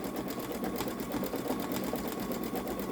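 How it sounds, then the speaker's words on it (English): A Babylock Solaris Vision embroidery machine stitches out a couched design, its needle hammering in a fast, even rhythm that stays close and steady without a break. "it says it takes 19 minutes to stitch all of this out"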